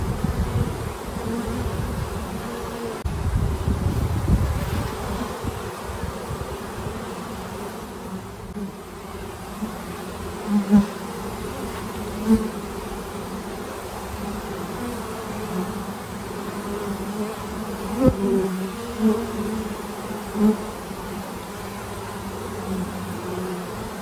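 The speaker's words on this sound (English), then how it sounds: "Look, look at the bees going in." A dense, steady buzz of a small bee swarm going into a box fills the air, droning continuously with small swells and no voices.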